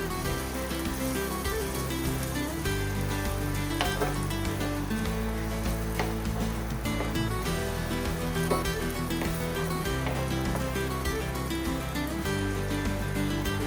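Fresh ginger garlic paste fries in hot oil in a pan for a duck roast, giving a steady, dense crackling sizzle that runs without a break and with no voices over it.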